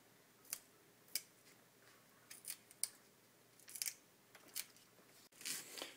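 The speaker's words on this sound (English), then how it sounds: "with the snow peas, you're going to simply cut the ends off" Sharp kitchen cuts trimming the ends off snow peas for a pancit bihon noodle dish, a series of crisp separate snips spaced about a second apart, close and fairly quiet against a silent background.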